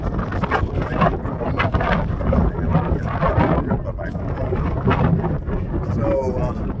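Strong wind gusts buffet the microphone outdoors in the mountains near Glencoe, a loud, continuous rumbling roar across the whole stretch.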